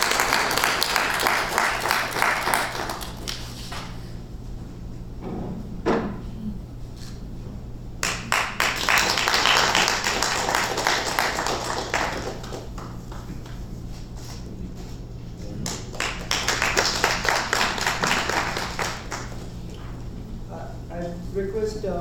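Audience applause at an Indo-Caribbean diaspora conference session, sustained clapping from a crowd in a hall that swells in several waves over about twenty seconds, with a steady background hum.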